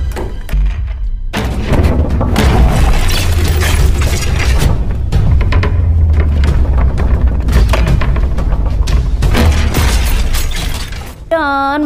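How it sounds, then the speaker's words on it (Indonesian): A glass table cracks and shatters during a tense fight scene in an Ip Man film, heavy thuds and bursts of breaking glass layered with loud dramatic music and voices. "meja kaca pun retak dan juga hancur"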